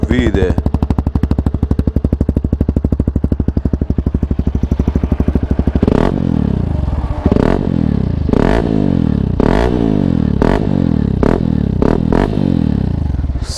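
A Hero Xpulse motorcycle fitted with a Norifumi Noctus T5 exhaust idles with a loud, rapid popping thump, then gets blipped in a run of sharp, close revs that rise and fall about every second.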